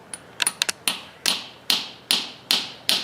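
A nail being hammered through a Terraflex polyurethane horseshoe into a horse's hoof wall: a few quick light taps, then a steady series of sharp, ringing hammer blows, close and clear.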